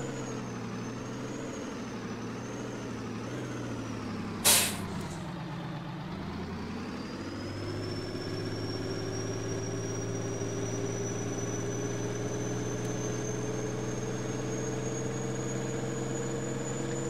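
A farm truck engine sits idling after a cold start with a steady low rumble, a short sharp burst near the start, then a rising whine as it settles into an even idle, with nobody talking.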